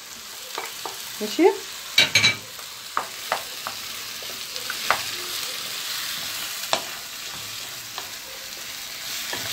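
Shawarma meat fries in a pan with onion, tomato, bell pepper and carrot, a steady sizzle punctuated by stirring scrapes and clatters, with a short spoken word partway through.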